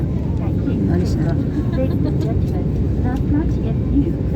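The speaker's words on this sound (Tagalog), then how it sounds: "Maliit na aeroplano lang to." Steady low broadband hum inside a small airplane cabin, a continuous engine and air drone filling the clip at moderate loudness with faint voices murmuring underneath.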